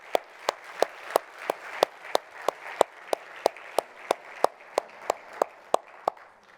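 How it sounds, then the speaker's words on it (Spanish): A church congregation claps together in a slow, even rhythm, about three sharp claps per second, with a faint murmur of voices beneath the beat. "Un aplauso."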